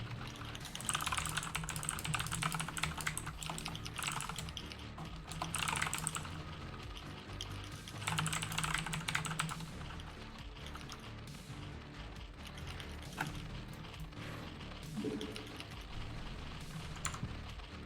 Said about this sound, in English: Yeah, I'm typing to him.